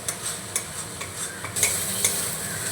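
Masala with ground coriander and salt sizzles and is stirred in a pan, a steady frying hiss broken by a few sharp scrapes of the spoon against the metal, close and moderately loud with no voices.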